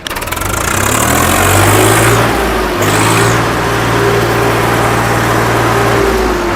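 A loud tractor engine runs close up, revving hard then dropping back to a steady rumbling idle; an all-original 855 model with 783 hours of use.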